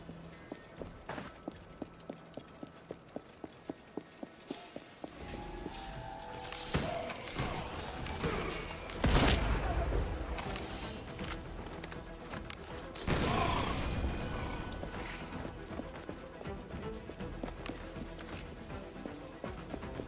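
Slow-motion pistol shots in Assassin's Creed Black Flag, a run of sharp evenly spaced reports early on that give way to a dense, crashing, music-laden stretch of game action with heavy thuds.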